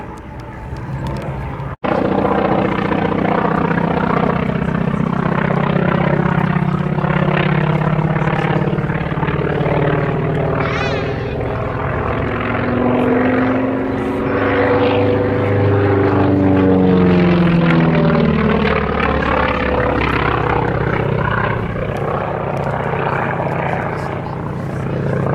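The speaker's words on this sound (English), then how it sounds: "Beautiful sounding Pratt & Whitney twin Wasp radial engine there, producing around about 1200 horsepower." A Grumman Wildcat fighter with a Pratt & Whitney Twin Wasp radial engine of about 1200 horsepower roars past at an air display, loud and rising as it approaches, then sweeping past and fading over many seconds.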